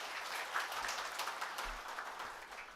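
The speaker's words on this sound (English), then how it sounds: "Give a big round of applause to them." An audience at an indoor pharmaceutical workshop claps steadily, a soft, even patter of many hands heard from a distance.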